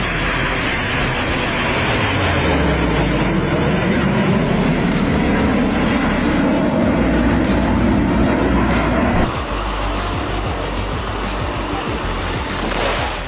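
Jet aircraft roar past at an air show over the UAE, trailing colored smoke, a loud continuous broadband rush with swelling and shifting engine tones throughout.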